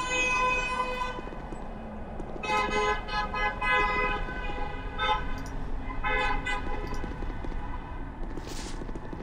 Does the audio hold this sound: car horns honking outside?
yes